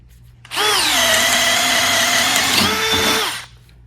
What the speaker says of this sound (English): DeWalt DCD 777 drill mode, speed 2, 5 amp XR battery, the same 5/8